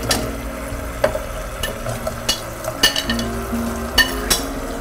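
Chicken pieces frying in a hot pan for honey chicken, with a steady sizzle broken by sharp clinks and scrapes of a utensil stirring against the pan, close and fairly loud, no voices.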